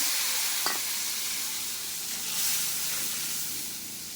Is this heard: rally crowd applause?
no